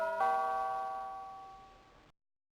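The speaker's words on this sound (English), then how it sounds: "There's a bell too. Let's use that." A doorbell chimes once with a bright, ringing tone that decays smoothly for about two seconds before cutting off, inside a Sherlock Holmes adventure game.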